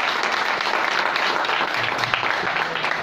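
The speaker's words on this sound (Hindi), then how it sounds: "जो पुराने लोग हैं इन लोगों के लिए एक बार जोरदार ताली हो जाए।" A crowd at a stage program claps vigorously for the veteran attendees, a dense, loud wash of applause with faint voices mixed in beneath it.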